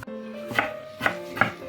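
A knife chops vegetables for borscht on a board, giving three sharp, separate knocks at an uneven pace over a quiet steady hum, with no voices.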